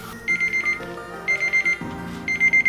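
A kitchen timer alarm goes off during a pork chop cook on a Weber kettle grill, beeping in three quick clusters of rapid pulses, moderately loud over quiet background noise.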